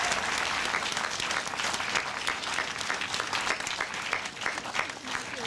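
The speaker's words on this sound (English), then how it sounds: "Let's join in giving her a round of applause." Audience at a Metro Operator of the Year ceremony applauding steadily, a dense, even clapping from a sizable crowd that holds from start to finish without voices on top.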